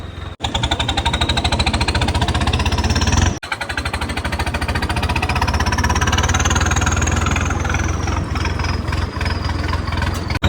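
A heavy diesel Swaraj tractor engine idles close by with a steady, rapid knocking chug, briefly cutting out and restarting before running on evenly.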